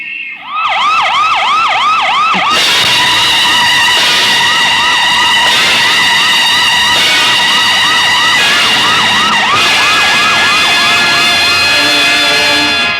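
A police car siren wails loudly and close, a rapidly repeating yelp cycling without pause, joined partway through by a steady layered tone, with no talk.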